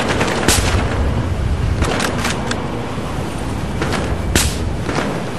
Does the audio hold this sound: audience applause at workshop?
no